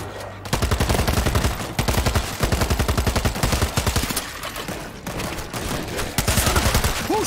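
Loud bursts of rapid automatic gunfire in World War Z, a zombie-fighting shooter, coming in repeated volleys separated by brief pauses, close and dominant throughout.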